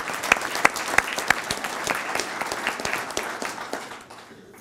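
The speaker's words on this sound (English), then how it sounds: "Let's give a big round of applause for all of our sponsors." Conference audience claps for the sponsors, a short, lively burst of applause from a moderately sized room with a few sharp individual claps standing out, tapering off after about four seconds.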